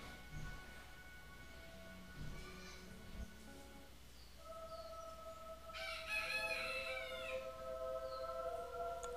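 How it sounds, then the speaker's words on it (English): Chickens in the Fable 3 video game, with a rooster crowing loudly near the end over a steady background of game ambience and occasional soft clucks and bumps. "This game's all about chickens"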